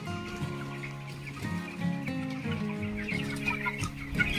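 Chickens at a village poultry farm cluck steadily and close by, a busy overlapping flock chatter with several birds calling at once and no talk over it.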